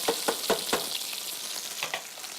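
Okra frying in a pan, a steady close sizzle with several soft stirring clicks at the start and a couple more near the end, no voices.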